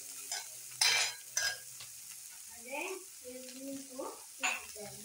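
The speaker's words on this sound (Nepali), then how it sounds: "तिते करेला हामीले यसरी बनाइरहेका छौं।" Bitter gourd is stir-fried in a pan in a home kitchen, with scattered scrapes and clinks of the spatula against the pan over a soft sizzle, and a voice briefly audible.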